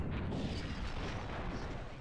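A loud, rumbling explosion in the space combat game Space Pirates & Zombies fills the whole stretch with dense, sustained booming roar that tapers slightly at the end.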